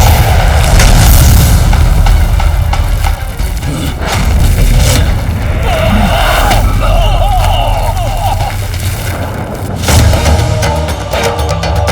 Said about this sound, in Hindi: कैसा विस्फोट था?